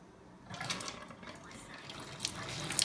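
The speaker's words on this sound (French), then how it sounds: "Voilà, donc nous allons ouvrir l'eau." Water starts running from a K8 water fountain, a soft gush rising after a quiet start and continuing steadily with small splashes.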